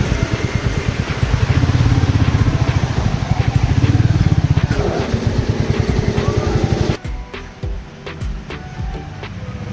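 A Royal Enfield Meteor 350 motorcycle engine runs close by with a steady, throbbing single-cylinder thump that cuts off sharply near the end, leaving quieter background noise.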